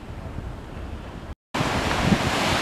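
Sea waves breaking against a rocky stretch of the England coast path near North Gare, a loud, steady roar mixed with strong wind buffeting the microphone, cut by a brief silent gap in the middle; no talk.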